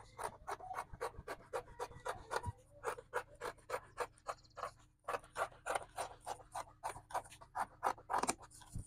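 Scissors snip through excess fabric while a halter neck dress is trimmed, a fast run of close, crisp cuts in steady rhythm with a short pause midway.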